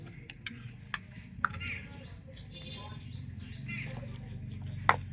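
Batter mixed with carrot paste is stirred in a bowl, soft scraping and squishing with scattered light clinks of a utensil against the bowl, fairly quiet and close.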